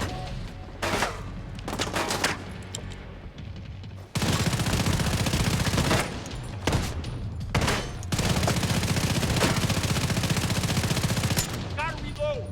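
Heavy automatic gunfire in the video game The Division 2, loud and close, in sustained rattling bursts with short breaks between them, and shouted voices in between.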